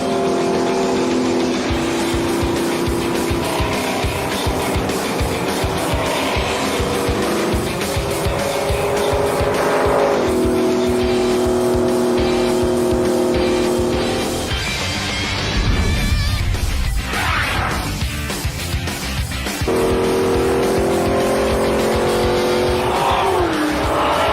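Race cars roar around an oval track with engines wailing at high revs and tires squealing, cars sweeping past in loud, continuous waves.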